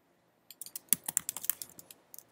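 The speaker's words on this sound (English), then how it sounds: "Type in first last name." Typing a name on a computer keyboard: a quick run of crisp, close key clicks in an irregular rhythm, alone with no talking.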